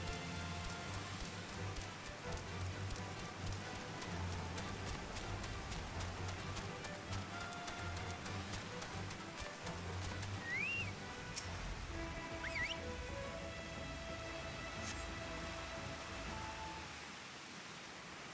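Rain falls steadily during a storm in Final Fantasy XIV Online, a soft continuous patter and hiss with faint game tones and a brief whistle-like chirp over it, no talking.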